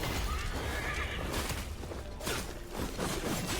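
A horse in the video game Phantom Blade Zero lets out a loud, close whinny early on, followed by hoof clatter and swishing combat sounds with no speech.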